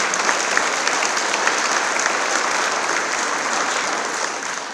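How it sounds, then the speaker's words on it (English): A dense, steady wash of applause from a large audience at a middle school dedication ceremony, honoring the architects and construction partners, sustained and even from start to finish with no talk. "So we can give a round of applause to both of them also."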